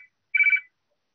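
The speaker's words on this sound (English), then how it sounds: "Somebody's got a phone ringing somewhere." A telephone rings during an online committee meeting, a single bright electronic ringtone burst lasting about a third of a second, clear and moderately loud against otherwise silent surroundings.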